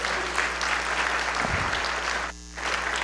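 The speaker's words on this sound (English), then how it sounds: "So let's give her another big round of applause." Audience applause at a school district State of the District event, steady dense clapping throughout with a brief muffled dip near the end.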